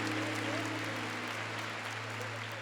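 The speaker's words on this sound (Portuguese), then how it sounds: "Pode aplaudir." A church congregation claps during a Catholic Mass sermon, a soft, continuous wash of applause heard from a distance over a steady low hum.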